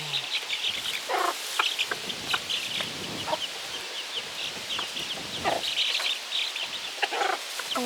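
A hen chatters and clucks in a run of short, close calls, some sharper squawks among them, with faint bird sounds in the background and no talking.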